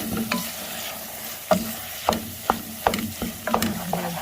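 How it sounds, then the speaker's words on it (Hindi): Beaten eggs frying in a pan for egg khagina, a soft sizzle punctuated by regular sharp spatula knocks and scrapes against the pan, close up and without talking. "अब 4 से 5 मिनट तक अंडों को भून लेंगे"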